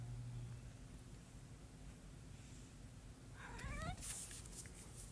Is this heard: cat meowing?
yes